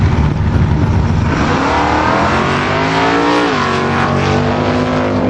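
A 1980 GMC Sierra and a 55 Chevy two-door sedan launch off a drag strip start line, loud roaring engines building and rising in pitch together over a few seconds.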